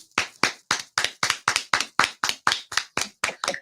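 About a dozen sharp, evenly spaced hand claps in a steady rhythm, close and loud, with no talking.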